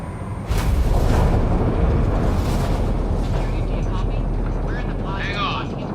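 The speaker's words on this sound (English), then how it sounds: "Initiating atmospheric entry." A spaceship makes its atmospheric entry in Mass Effect: Andromeda on PlayStation 5. A loud, dense roar surges in abruptly and then holds as a heavy rumble, with shrill warbling tones near the end and voices partly heard over it.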